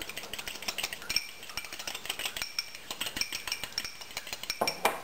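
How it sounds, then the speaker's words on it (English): An egg being beaten in a bowl for an egg wash on whole wheat bread: a fork or whisk clicks quickly and steadily against the bowl in a light, fast rhythm, close and clear, with no voices. "So I beat an egg."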